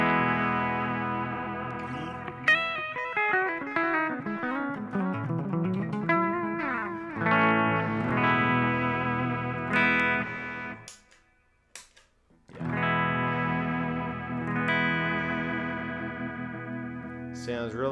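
Electric guitar played through a Quilter direct amp on a Fender-type voice with reverb and the effects loop engaged, ringing chords and picked lines with chorus-like shimmer, a short silent gap midway, then sustained full strumming.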